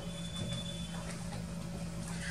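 A domestic sewing machine stitches fabric for a small phone-charger pouch, running in a steady, fairly quiet continuous hum with faint rhythmic needle ticking throughout.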